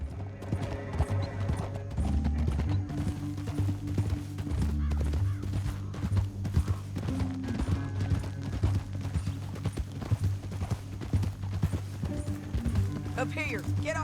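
Rhythmic hoof clip-clop from horses moving steadily throughout in Red Dead Redemption 2, with a horse whinnying and a deep background hum under occasional talk.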